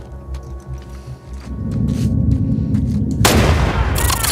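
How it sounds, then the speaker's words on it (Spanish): A loud gunshot boom bursts from gameplay in The Last of Us Part II, followed by dense noisy gunfire and sharp cracks over a rumbling low game soundtrack. "¡Qué mal disparo!"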